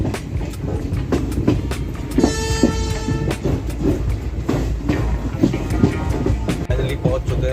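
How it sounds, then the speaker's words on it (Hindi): A moving passenger train between Lucknow and Haridwar fills the clip with a loud, steady rumble and rhythmic clickety-clack of the wheels. A long tonal horn blast sounds midway. "अब ट्रेन जो है चल चुकी है, आपको दिखा रहे हैं।"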